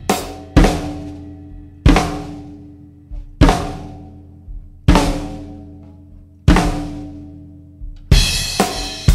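Drum kit played without a pedaled hi-hat: six widely spaced, booming hits ring out and decay in a slow, dramatic pattern, with a brighter cymbal-heavy crash near the end, loud and alone.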